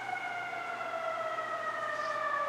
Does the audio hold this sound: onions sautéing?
no